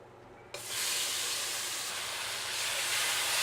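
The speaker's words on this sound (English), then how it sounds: "So next thing you want to do once the sugar is burnt is put the meat in the pan." Meat dropped into a pan of hot oil and burnt sugar, a sudden loud sizzle bursting in and holding as a steady, dense hiss close by, with no talking.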